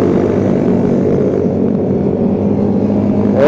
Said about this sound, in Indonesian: motor R15